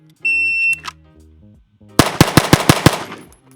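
A shot timer's electronic beep sounds, then a SIG P211 GTO pistol fires seven rapid, evenly spaced shots, loud and close, at an outdoor range.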